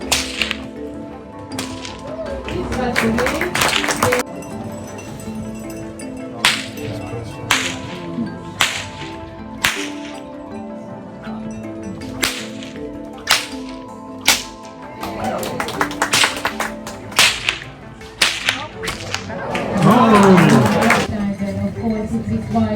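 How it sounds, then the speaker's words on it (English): Horse riders crack whips from horseback in Hungary, sharp loud snaps repeating at irregular intervals, some in quick bursts, with hoof and crowd noise and brief talk in between. "the horse riders can practice aiming with the whip from the horseback"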